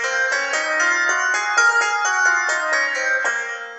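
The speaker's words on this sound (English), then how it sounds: "And if I were to play the natural minor, it would be this." A bright, synth-like keyboard plays a natural minor scale up and back down, steady stepwise notes at an even pace, alone and clear.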